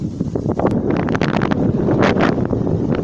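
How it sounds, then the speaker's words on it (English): Steady wind buffeting the microphone during a walk in a park, a loud continuous low rumble with gusty rustling and no voices. "It's not a bad day today, a bit windy"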